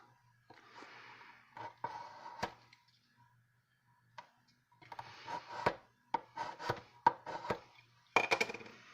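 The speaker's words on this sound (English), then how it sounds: "Burnish down with my scraping tool for my Cricut mats." A scraping tool burnishes material down onto a Cricut mat, giving bursts of short rubbing scrapes and a few sharp taps, close and intermittent with quiet gaps between strokes.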